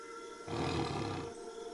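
A black tiger in the WildCraft video game lets out a single deep roar lasting just under a second, loud and close, with no talking over it.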